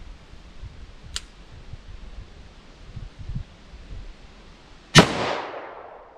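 A 4-inch revolver fires a 10mm 200-grain XTP handload, one sharp, loud report with a short ringing tail near the end, after a faint click and quiet background.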